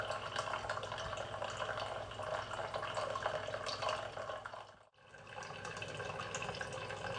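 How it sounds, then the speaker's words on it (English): Water dripping slowly from a tap in a simple equilibrium demonstration, a steady broadband splashing and trickling that runs continuously, briefly cutting out near the end before resuming. "Okay, so the water is now dripping more slowly."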